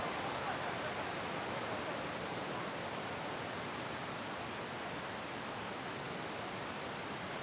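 Powerful waterfall near the road from Vancouver to Whistler, a steady, broad roar of falling water that stays constant from start to finish, heard close with no talk over it.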